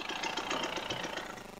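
A KTM 300 TPI two-stroke dirt bike engine burbles briefly on a trail ride, a close, busy, uneven mechanical chatter.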